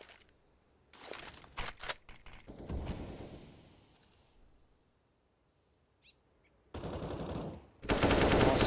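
Counter-Strike gunfire from a Desert Eagle and AK rifles during a match, sharp bursts of shots clustered in quick volleys, a quiet pause, then louder sustained firing at the end.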